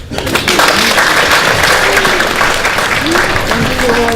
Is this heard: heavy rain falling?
no